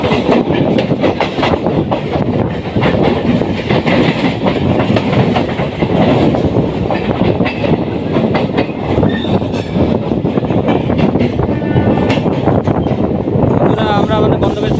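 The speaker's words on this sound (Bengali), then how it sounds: "এই পাশে এক্সপ্রেস ট্রেন যাচ্ছে" An express train bound for Howrah rushes past alongside a local EMU train near Santragachi, a continuous loud roar with rhythmic wheel clatter and rail rumble filling the whole stretch, with brief wheel squeal near the end.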